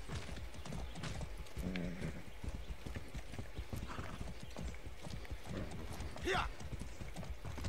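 Rapid hoofbeats clatter throughout in Far Cry 6, with a sharp whinny rising near the end and a voice speaking intermittently underneath.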